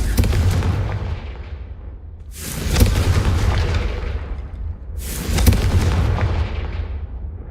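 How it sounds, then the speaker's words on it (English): Fiery Confringo spell blasts from Hogwarts Legacy, three loud booming explosions spaced a few seconds apart, each bursting sharply and then fading into a long rumbling tail. "a Confringo cast travels a bit farther than that"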